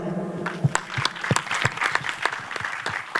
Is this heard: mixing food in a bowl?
no